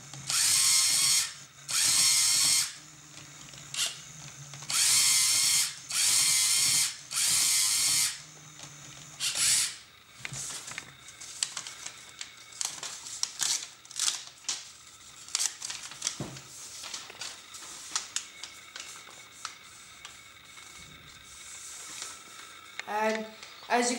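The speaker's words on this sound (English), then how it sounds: "the Braille printer printed out Y" A Lego-built Braigo Braille printer embosses the letter Y, giving loud, drill-like motor whirs in repeated bursts, followed by quieter clicking and ratcheting mechanical movement.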